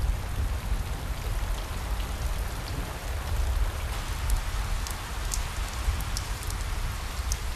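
Steady rain falls in the wild at the start of the rainy season, a constant, even hiss of drops on the ground with a few sharper splashes, close and moderately loud for the whole stretch.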